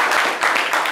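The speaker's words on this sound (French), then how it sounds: "On applaudit pour Kassim déjà." An audience at a live show applauds to encourage Kassim: a brief patter of dense hand clapping at steady volume, heard close.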